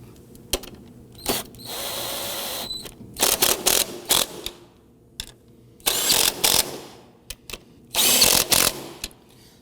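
Strut tower nuts on a 2001-2009 Volvo S60 snugged down during a front strut and spring replacement, heard as close bursts of power-tool whirring and clicking ratchet runs separated by short pauses, without speech.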